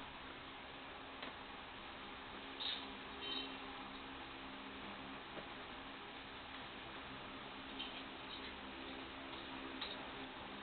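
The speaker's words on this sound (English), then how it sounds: "I'm going to go ahead and tighten it down. Grab my ratchet." A ratchet tightens a part on a GS-X bowling pinsetter, giving faint, sparse clicking ticks at irregular intervals over a quiet, hissy background with no talk.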